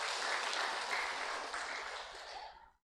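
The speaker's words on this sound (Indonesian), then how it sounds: "Tepuk tangan buat dia itu." A congregation at a church worship service claps in sustained applause for nearly three seconds, moderately distant, before it stops abruptly.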